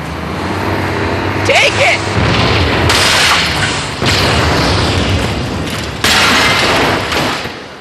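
A Warthog vehicle blowing up in Halo 2, with loud booming explosions and bursts of gunfire rolling through a noisy battle, while someone talks over the action.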